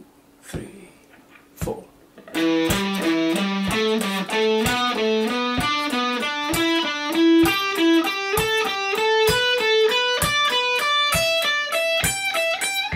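Electric guitar plays a rapid lick sequence, starting with a few sparse picked notes, then a fast, steady run of ascending and descending notes up the neck, clear and upfront.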